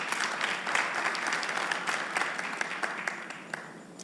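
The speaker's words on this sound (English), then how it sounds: "Let's give them a round of applause before they get started" A workshop audience gives a round of applause for four company presidents, with many hands clapping steadily at a moderate distance and some individual claps standing out.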